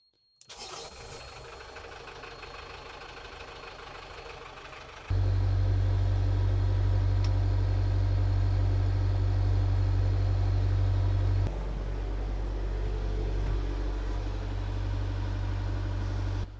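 A diesel engine aboard a Colvic Watson 25.6 motorsailer starts up and settles into a loud, steady idle, its low throb growing heavier midway and then easing slightly, with no talk over it.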